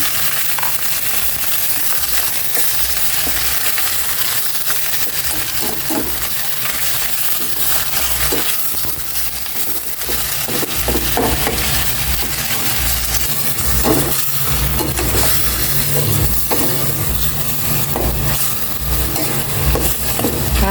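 Chicken pieces sautéing in a hot pan, a steady broadband sizzle running throughout with scattered stirring scrapes and clinks, fairly loud and close, no talking.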